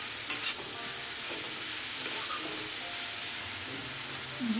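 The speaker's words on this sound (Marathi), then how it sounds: "4 ते 5 मिनिटं आपण तुपामध्ये छान शिजवून घेणार आहोत" Grated carrots for halva sizzle steadily in ghee over a medium gas flame, a constant close frying hiss broken by a few sharp scrapes of stirring.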